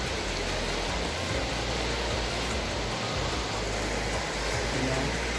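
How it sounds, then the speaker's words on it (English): Steady, broadband hiss of rain falling in the Yellowstone backcountry, constant and fairly loud throughout, with a low rumble underneath and no clear voices. "It started raining"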